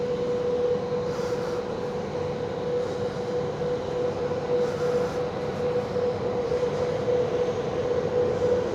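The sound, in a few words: Vias Flirt 3 train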